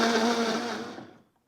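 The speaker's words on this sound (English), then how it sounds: "and then we're just going to blend it up" A blender whirs loudly, blending a homemade mint shamrock shake copycat of the McDonald's dessert, then winds down and cuts off near the end.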